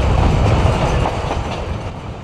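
A Peru Rail train rolls along its tracks toward Lake Titicaca, a steady close rumble of wheels and carriage with faint clickety-clack, continuous and loud throughout with no voices.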